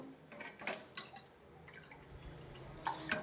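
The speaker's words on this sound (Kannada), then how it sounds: "ನಾನೀಗ ಮಜ್ಜಿಗೆ ಹಾಕ್ಕೋತಾ ಇದ್ದೀನಿ." Buttermilk poured into an instant buttermilk sambar, heard as a few soft, scattered liquid drips and small splashes at close range, faint against a quiet kitchen background with no talking.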